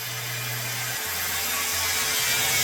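A saw cuts wood for bench box joints with a steady, close rasping hiss and a low hum that breaks off briefly and resumes.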